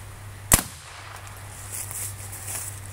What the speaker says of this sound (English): I'm just going to do one more shot right at my backstop here just to see how much power